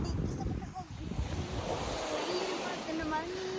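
Waves washing onto a beach at Mana Island, Fiji, a steady wash of surf mixed with wind buffeting the microphone, with faint voices in the background.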